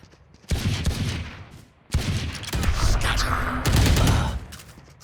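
Gunfire in the tactical shooter Valorant during a missed chase on a fleeing enemy: two loud bursts of rapid shots, a short one and then a longer sustained volley, close and dense with no talk over them.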